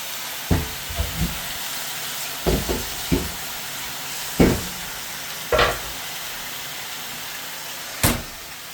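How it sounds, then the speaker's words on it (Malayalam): Chicken pieces for a Nadan chicken curry drop into a hot pan of onions with salt, each one landing in a brief sharp sizzle burst over a low steady frying hiss, about eight bursts spaced unevenly, close and fairly quiet. "so we can put the chicken pieces ഇതിലിടാം നമുക്ക്"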